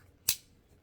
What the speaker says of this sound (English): First, I'm going to take my box cutter